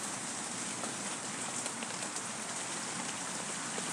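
Steady rain falling by a river, a dense even hiss of drops close by with no voices.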